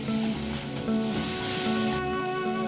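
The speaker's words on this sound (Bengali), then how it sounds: "এবার আলুটা দিয়ে আরও একটু আমি কষিয়ে নেব" Potatoes sautéing in a spice masala for a light katla fish curry, giving a steady close sizzle with occasional stirring under faint tonal background sounds.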